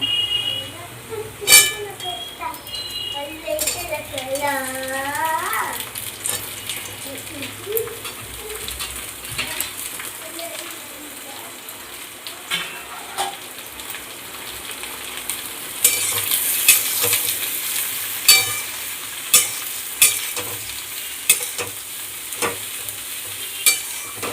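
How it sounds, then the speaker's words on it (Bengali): Cut brinjal fries in a pan, hissing and sizzling steadily up close as a utensil stirs and scrapes, with pigeons cooing in the background and brief talk early on. "এবার কেটে রাখায় বেগুনগুলো একটু ভেজে নেব"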